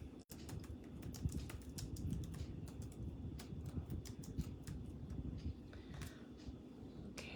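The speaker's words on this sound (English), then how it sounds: "Oops, I don't know how to type" Fingers typing on a computer keyboard nearby, a quick irregular patter of sharp key clicks running steadily throughout with no talking.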